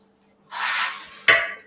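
Metal square cake pan and baking tray shifted on a kitchen counter, a soft scraping slide followed by a sharper metallic clatter as the pans are set down, close and fairly quiet.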